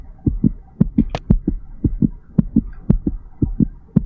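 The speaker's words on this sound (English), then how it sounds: "Because I'm hearing a heartbeat." A slow, steady heartbeat throbs in the horror video game Room 307, with deep paired thumps repeating evenly, close and heavy, with no voices.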